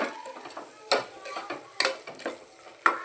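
Palak rice masala fries in hot oil in a pan, soft sizzling under periodic sharp scrapes and clinks of a spoon stirring against the vessel, close and fairly quiet.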